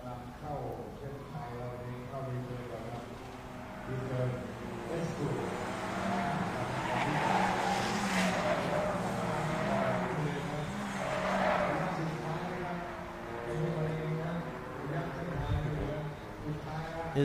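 Toyota Vios race cars run on a circuit during a Division 2 and Vios Lady race, engines droning and tyres squealing steadily in the background beneath continuous commentary.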